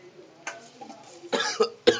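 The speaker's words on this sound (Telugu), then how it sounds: "ఇట్లా దగ్గు వస్తుంది." A few sharp coughs in a kitchen while chilies fry in oil, one early and two loud ones near the end, close to the listener with quiet pauses between.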